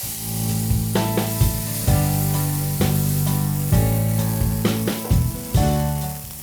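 Loud steady sizzling and hissing as water is added to a hot pan with flour, with a few clatters of a utensil scraping and stirring, close by and without talk.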